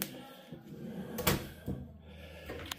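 A push-latch drawer in a house opens with a latch click and a short sliding clunk, a couple of close, fairly sharp knocks against quiet room tone with no talking.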